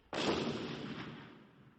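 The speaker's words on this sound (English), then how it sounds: "Then I heard an explosion." A single explosion from excavation work near a river bursts in suddenly and loudly, then rumbles and slowly fades over the next second and a half, with no voices.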